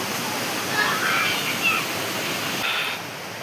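Savat Sada waterfall roars as a steady broadband wash of falling water during the monsoon, heard from the steps below it, with people talking faintly nearby.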